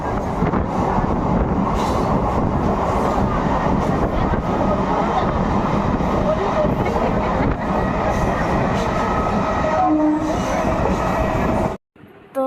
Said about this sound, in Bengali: দেখো স্টেশনে এসছি মানে দমদমে বাড়ির দিকে যাব